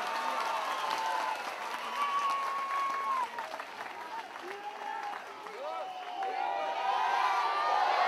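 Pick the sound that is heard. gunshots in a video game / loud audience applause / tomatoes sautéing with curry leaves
loud audience applause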